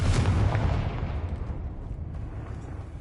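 A Confringo blasting spell explodes in Hogwarts Legacy on PS5: a loud, close, booming blast whose deep rumble fades slowly across the whole moment, with no voices.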